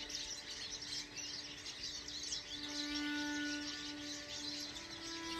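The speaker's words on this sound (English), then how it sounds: "we find joy in the small signs of spring, like the sounds of the birds singing their song," Birds sing in a Keweenaw forest in the last days of winter as spring approaches. Faint, distant chirps and thin whistled notes repeat against quiet outdoor ambience.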